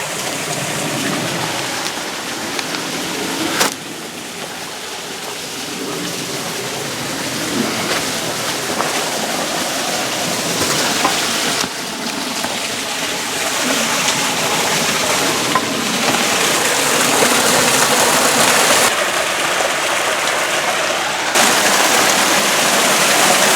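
Soldier Creek near Azusa, California, flows in a continuous, loud rush of water that stays close and steady throughout, with no voices.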